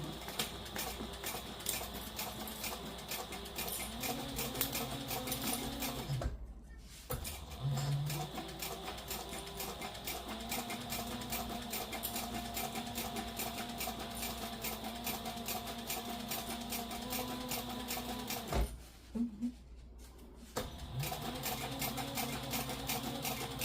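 A sewing machine back stitches the seams of a satchel handbag. Its motor hums steadily and close by, the run broken by two short pauses, with no talking.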